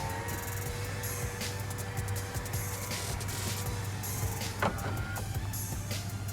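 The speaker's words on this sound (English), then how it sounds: "the whole window comes down" A Toyota Tundra rear power window motor hums steadily as the glass lowers, a faint continuous whine over a low engine idle drone, with small clicks and a brief thump near the end.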